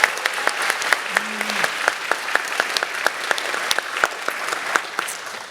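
An audience gives a round of applause, with dense, crisp clapping that stays steady for several seconds and a brief vocal sound partway through.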